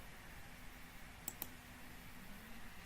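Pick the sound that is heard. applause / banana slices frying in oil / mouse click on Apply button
mouse click on Apply button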